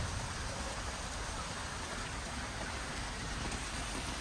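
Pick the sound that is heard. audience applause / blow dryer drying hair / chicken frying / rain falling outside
rain falling outside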